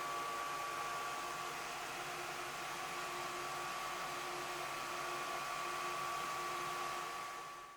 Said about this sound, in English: To cut out my pattern, I'm using my X2 laser machine.